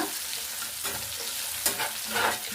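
Green chillies fry in a pan over a low flame for tomato chutney, giving a soft, continuous sizzle with brief stirring scrapes and a sharp crackle partway through.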